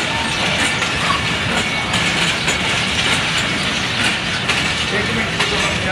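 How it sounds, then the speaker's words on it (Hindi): Pakistan Railways Jaffar Express rolling toward a platform at Lahore Junction, a steady loud rumble with rhythmic wheel clatter, while someone talks over the noise throughout. "फोर 25 की लीड पर जाफर एक्सप्रेस आ रही है। ये PF 7 पर अप्रोच ले रही है।"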